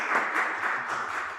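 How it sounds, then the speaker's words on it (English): An audience at a conference session claps together, a dense, even patter of many hands heard a little way off for a brief moment, with no voices over it. "Thank you for clapping hands."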